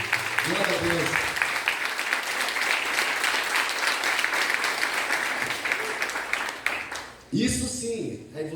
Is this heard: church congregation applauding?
yes